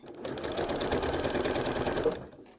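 A sewing machine runs in one continuous loud burst, back-stitching lace onto a shirt, its rapid needle chatter holding steady for about two seconds before stopping.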